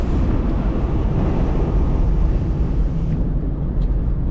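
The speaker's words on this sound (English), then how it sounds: "It's windy." Steady, heavy wind roars and buffets the microphone continuously at an RV campsite in Rocky Mountain National Park, a dense low rumble with no pauses.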